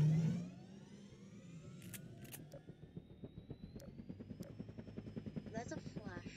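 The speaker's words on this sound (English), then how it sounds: "Combine helicopter." A Combine helicopter in Garry's Mod, rotor chop rising into a fast pulsing thump as it spins up, with sharp mechanical clicks and a high whine above.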